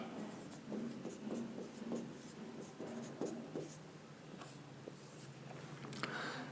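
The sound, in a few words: writing the equation on paper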